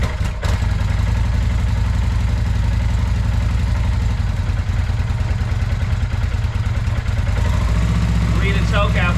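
A 1996 Kawasaki Vulcan 800 motorcycle, started on full choke after sitting for twenty years, catches and runs with a loud, close, lumpy rumble and clatter that holds steady before a voice calls out near the end.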